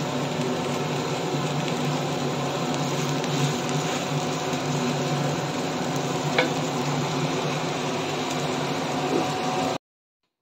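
Food fries on a tawa with a steady, close, even sizzle and hiss that runs throughout, with an occasional faint tap of stirring, ending abruptly in silence.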